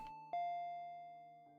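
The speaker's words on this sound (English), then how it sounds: "She makes the decision and rings the doorbell." A house doorbell rings with a two-tone ding-dong, a bright struck chime whose second note rings on and slowly fades, heard alone and close.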